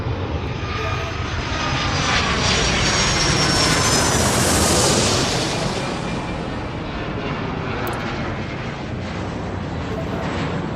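A jet airliner in the airport game Airport Madness takes off from a runway with a loud, continuous engine roar that swells to a peak midway, then eases into a steady rumble.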